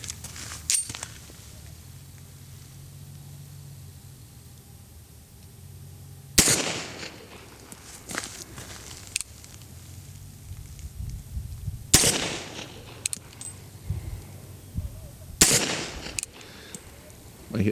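A Beretta M-96D pistol fires at an outdoor range, with single loud, sharp shots spaced several seconds apart and quieter handling noises between them.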